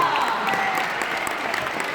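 An audience applauds a singer at a children's concert, a dense wash of clapping that stays steady and fairly loud from start to finish.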